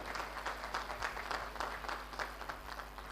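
An audience claps in a quick, steady burst, with the claps close together and fairly loud, and no voice over it.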